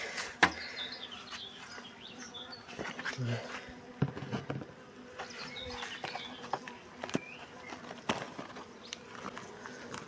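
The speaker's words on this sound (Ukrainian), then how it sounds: "Спершу давайте подивимося, що це за рій, скільки рамочок треба для нього підготувати, якої він сили." A stray swarm of honey bees inside an eight-frame bait trap gives off a close, continuous buzzing hum, with individual bees droning past and scattered knocks and rustles on top.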